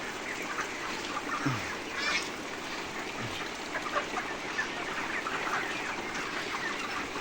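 Broiler chickens crowd a hot shed after a power cut, a dense mass of clucking and squawking from many birds. The din is continuous and fairly loud, with scattered louder calls and no talk.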